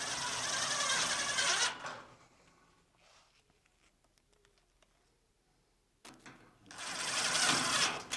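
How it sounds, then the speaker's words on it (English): A screw gun drives screws into the face of an expandable electrical box support bracket, with two sustained loud whirring bursts at the start and end and quiet handling clicks between them. "we'll just continue adding the screws"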